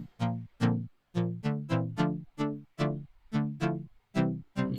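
A Serum synth preset with its delay switched off plays a series of about a dozen short, dry chord stabs in a steady rhythm, each clipped off cleanly with no echo trailing, alone and fairly quiet.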